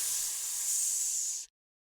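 A human voice imitates an angry cat's hiss, a single sustained breathy hiss of about a second and a half that cuts off abruptly into silence.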